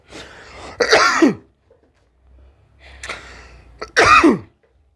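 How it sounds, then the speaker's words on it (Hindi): A man with a cold coughs and clears his throat in two loud, harsh bursts a few seconds apart, each a quick cluster of rasping hacks, close to the microphone with quiet pauses between. "थोड़ा सा कोल्ड है उस वजह से खांसी आती"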